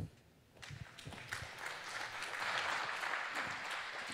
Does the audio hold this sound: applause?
yes